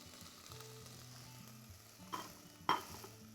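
A sweet of soft-cooked chickpeas and prunes goes into a pan, giving a quiet, steady low sizzle with a couple of brief stirring clinks near the end.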